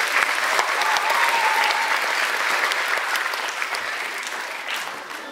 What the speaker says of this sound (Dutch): Alle drie, geef je een applaus.